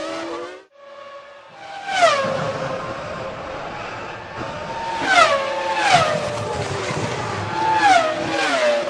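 Formula One cars race past and overtake at the Australian Grand Prix. Loud engine whines rise and fall with Doppler sweeps as several cars pass in quick succession, with a steady engine roar running between the passes.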